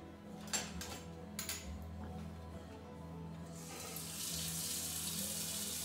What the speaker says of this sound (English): And I'm going to put some water to boil